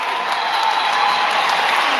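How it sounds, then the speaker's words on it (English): A crowd at the Simple Session 2025 men's BMX finals cheers and applauds the champion, a loud, steady wash of clapping and shouting throughout. "Yeah, thanks for cheering. I can hear you out there."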